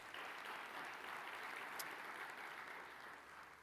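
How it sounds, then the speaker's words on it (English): Audience at the Santa Ana State of the City event gives a round of applause for sponsors, a steady even wash of clapping held throughout, moderately distant and soft. "give these three silver sponsors a round of applause as well"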